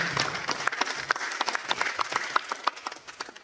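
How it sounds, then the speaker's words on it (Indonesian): A crowd of university students and staff at a campus orientation event claps for KIP scholarship students, a brisk, fairly loud burst of many hands with sharp individual claps standing out. "Tepuk tangan untuk KIP"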